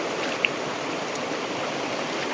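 A clear, natural rocky river, the Sungai Temula in Nyuatan, Kutai Barat, flows with a steady, close rushing and burbling of water over stones, continuous and unbroken, with no voices.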